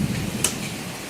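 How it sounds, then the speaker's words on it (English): Steady rain hisses outdoors during a big storm, a dense even wash with a low rumble of thunder underneath and one brief sharp tick partway through. "Listen to that thunder."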